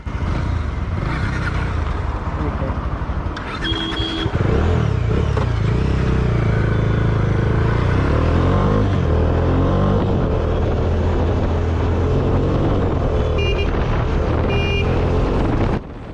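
A 2021 Bajaj Dominar 400 BS6 motorcycle with a 373cc DOHC liquid-cooled engine rides through city traffic. Its engine drone and rushing wind stay loud and close the whole time, with traffic sounds mixed in.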